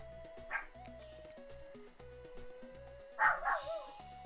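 Lupin, a pet dog, lets out two short bursts of barking at the mailman, one early and a louder double bark near the end, both over a steady tonal background in an indoor room.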